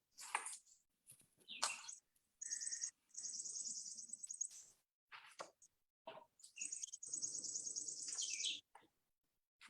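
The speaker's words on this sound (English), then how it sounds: "Hear your birds back there." Birds chirp and sing in bursts in the woods, bright high calls with short pauses between, fairly quiet and otherwise still.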